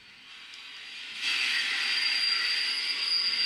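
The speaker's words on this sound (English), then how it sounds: "The first cues create the sound of the train." A train sound effect for station ambience: a faint rumble swells abruptly into a steady, loud hiss with a thin high wheel squeal running through it, and no voices.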